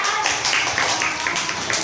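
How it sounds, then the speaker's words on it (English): A group of people clap their hands rapidly and unevenly, a busy patter of many claps close by, with voices mixed in. "All of you clap."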